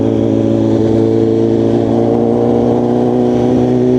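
BMW S1000RR superbike with a Stage 2 tune running on a highway, its engine droning loud and steady with strong layered harmonics throughout, close and continuous with no pauses.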